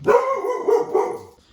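A pet dog gives a short burst of two or three close, loud barks, then falls quiet.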